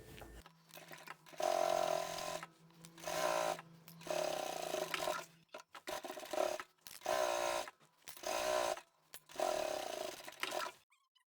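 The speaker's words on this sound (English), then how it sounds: "I'm just going to sew to the bottom of the box corner seam." A sewing machine stitches the box corner seam of a handbag, running in repeated bursts of a few seconds each with short pauses between, a steady close mechanical whir.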